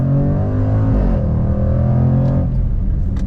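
A 2021 Jaguar F-Pace SVR engine pulls hard under acceleration, a loud, close rumbling drone whose pitch climbs, dips briefly and rises again, with no talking over it.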